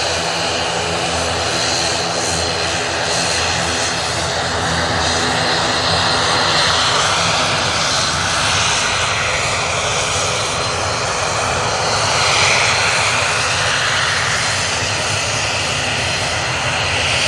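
Airliner engines roar continuously at Manchester Airport, a loud, steady broadband rush from jets of the Jet2 fleet such as A330, 757 and 737, swelling slightly mid-clip with no talk over it.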